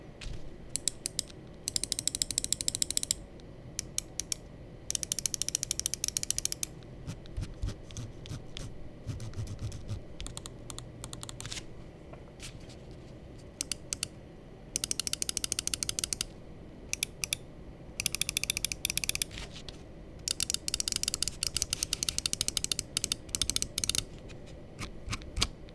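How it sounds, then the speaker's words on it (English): Piranha-modded Aim 8k and Neo 8k gaming mice being clicked up close, with fast bursts of crisp, dry clicks in rapid repeated runs separated by short pauses. "let's go ahead and drop the click quality sound check"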